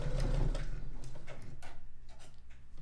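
A sewing machine stitches a quilt seam for an hourglass star block, giving a close, quick, rhythmic run of needle ticks that eases slightly toward the end.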